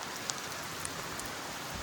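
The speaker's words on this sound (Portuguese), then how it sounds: "Estamos tomando chuva aqui. Muita chuva." Heavy rain falls steadily after a running race, a dense broadband hiss with a few sharper drop spatters, moderately quiet and with no voices.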